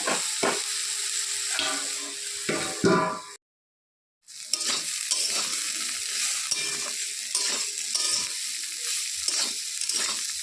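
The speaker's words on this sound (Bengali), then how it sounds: "তো একটু নেড়ে চেড়ে দিচ্ছি" Bitter gourd frying in a pan, bright crackling sizzle with intermittent stirring scrapes, a brief total cutout near four seconds, then renewed sizzling and stirring, close and with no one speaking.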